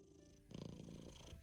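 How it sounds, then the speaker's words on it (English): Cat purring, a steady close rumble that grows louder and fuller about halfway through and continues without pause. "If you don't say anything, I will purr louder."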